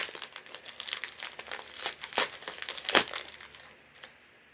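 A plastic wrapper on a Belgianite niacinamide soap is crinkled and torn open up close, with bursts of crackling and a couple of sharper rips, moderately quiet with no talking.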